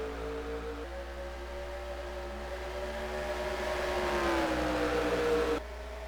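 Stock cars in a racing video game accelerating at the green flag at Bristol, a loud whining engine drone rising steadily in pitch as the cars gain speed, then cutting off abruptly near the end.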